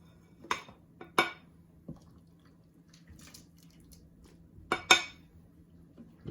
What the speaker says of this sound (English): So now let's dish up a bowl.